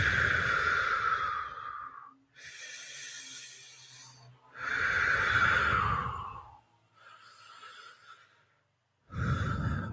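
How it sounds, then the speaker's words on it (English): Slow deep breaths, three long inhalations and exhalations with a hiss of air, each lasting about two seconds and separated by short pauses, close and fairly loud with no talking. "I'd like you to take a few deep breaths"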